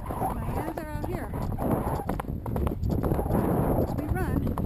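A horse's hooves clip-clop along an outdoor trail during a ride, a steady rhythmic beat under a voice, with wind noise in the background.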